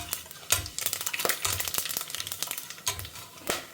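Cumin, fennel, cinnamon and cloves with urad dal fry in a pan, a steady close crackling sizzle broken by repeated stirring scrapes and clatters, with no voices.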